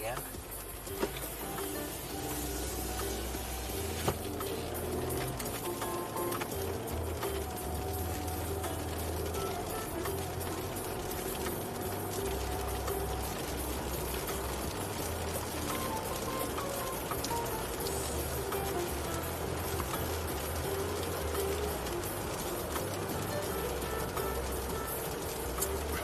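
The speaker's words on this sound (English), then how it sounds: "Well, it's raining again." Rain falls steadily outdoors near an airport, a continuous soft patter and hiss that runs without a break at low level.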